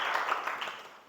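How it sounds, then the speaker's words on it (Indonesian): Pupils in a classroom give a short, soft burst of applause that quickly fades. "Oke, bagus. Tepuk tangan."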